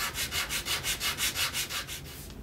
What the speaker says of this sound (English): I'm going to get rid of those tool marks with this 100 grit.